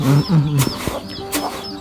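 Chickens cluck in a rural village in the morning: several loud, close clucks and short calls come in bursts, with fainter high bird chirps in the background and no speech.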